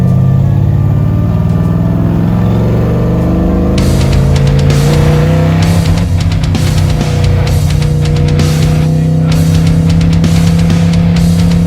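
A black 1955 Chevy fitted with a new Hughes torque converter revs hard from behind a 1965 Mustang, its loud, steady engine drone rising in repeated throttle bursts, close up with no talk.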